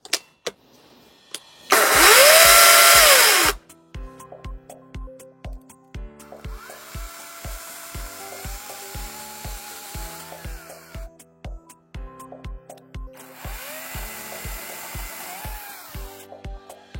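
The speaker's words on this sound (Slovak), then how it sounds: "Začínam rezať suché stavebné rezivo rôznych rozmerov." A Parkside Performance 40V cordless chainsaw whirs loudly in bursts, cutting through dry construction lumber, separated by quieter stretches filled with a regular clicking pulse.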